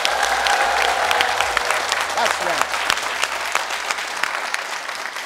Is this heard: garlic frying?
no